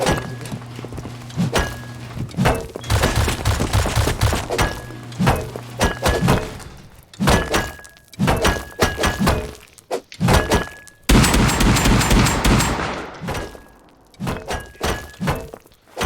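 A ceiling is broken apart in a video game with a rapid series of loud, heavy thunks and cracking impacts, repeating in bursts with short pauses between.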